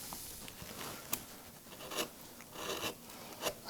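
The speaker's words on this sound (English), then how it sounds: "I would swap to a flatter gouge and just dress that down" A flat gouge pares across wood while carving a simple leaf, giving soft, close scraping strokes at an irregular rhythm, each rasp rising briefly above a quiet background.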